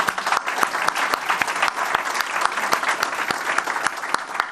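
Steady applause from an audience at a Blackstone LaunchPad announcement at MDC, clapping for Mayor Suarez, a dense patter of many hands with a few sharp individual claps standing out, continuing evenly throughout.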